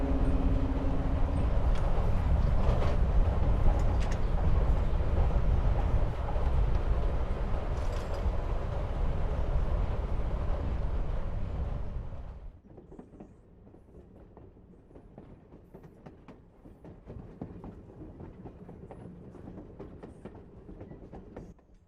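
A train rolls along the rails in the game Life is Strange Before the Storm, a loud steady rumble with faint clicking that drops abruptly to a quieter carriage hum about halfway through.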